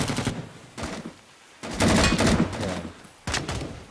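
Artillery barrage in the naval video game Cold Waters, heard as several loud, bursty clusters of booming fire separated by short quiet gaps, with a brief spoken word.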